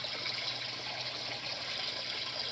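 Water gushing steadily from the 2-inch outlet of an above-ground pond filter pump, a constant close splashing rush with no talking.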